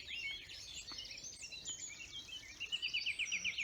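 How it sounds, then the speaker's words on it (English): A blackbird sings a sweet, melodious phrase during a spring dawn chorus, fairly distant and soft, with other birds chirping around it and a rapid repeated trill near the end. "to the right is a blackbird. That's a lovely, sweet, melodious song"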